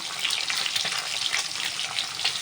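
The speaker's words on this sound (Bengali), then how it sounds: "এখন আমি এই তেলের মধ্যে ডিমটাও ভেজে নেব।" Egg frying in hot oil after eggplant and stalks were fried, in a home cooking setting; a steady close sizzling hiss with small crackles, continuous and unaccompanied by talk.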